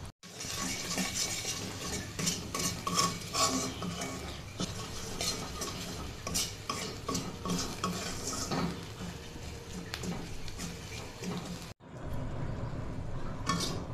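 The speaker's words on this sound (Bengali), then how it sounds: "শুটকিটাকে খুব ভালো করে এখন ভেজে নেব।" Dried fish fries in oil in a wok, stirred and scraped hard as it sticks to the metal; soft continuous sizzling sits under repeated clattering spatula strokes, then a brief cut and more frying.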